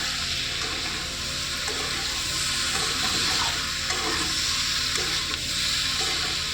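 Potatoes sizzle and fry in a pan with turmeric and salt, a steady close hiss of hot oil broken by scraping as they are stirred, with no talking over it.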